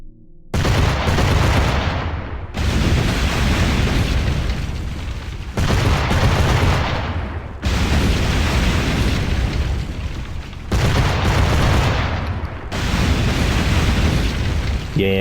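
Ship cannons fire in Assassin's Creed IV naval combat, delivering repeated heavy booming volleys and explosions in loud bursts separated by short gaps.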